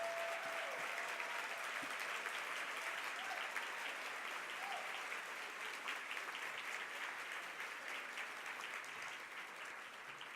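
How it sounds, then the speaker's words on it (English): A room full of people at an education conference applauding parents standing in the audience, steady sustained clapping heard from a distance and fairly faint, with no speech over it. "Let's give them a round of applause."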